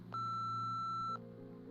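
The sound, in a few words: voicemail beep in video game Nobody Wants To Die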